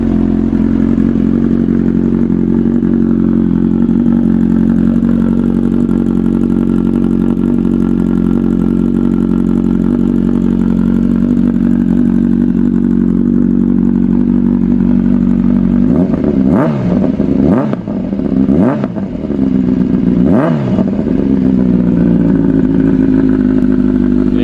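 A motorbike engine idles with a steady loud rumble close by, then blips its throttle in three or four short, sharp revs before settling back to idle.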